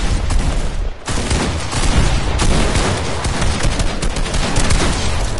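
Rapid rifle gunfire in a video game, dense bursts of shots running almost continuously and loud, with a brief gap near the start.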